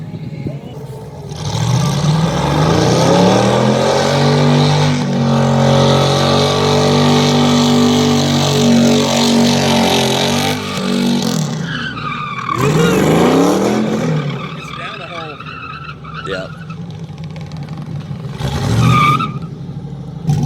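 Car doing a burnout at a Cleetus and Cars burnout competition: a loud engine revs hard and holds high with tires squealing, drops off, then surges again in shorter bursts near the end.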